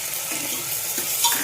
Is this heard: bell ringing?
no